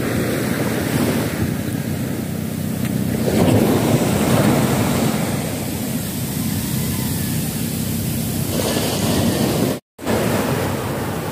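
Sea waves and wind at a beach in Nasugbu, Batangas, forming a continuous roar of surf with buffeting wind noise on the microphone. The waves swell louder mid-way, and a brief dropout near the end cuts the sound to silence.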